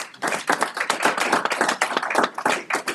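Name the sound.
audience clapping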